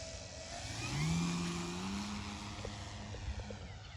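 Corsair model airplane engine making a low pass, a smooth mid-pitched drone that rises to a peak near one second and then pitches downward as it passes, continuing steadily outdoors with no talking.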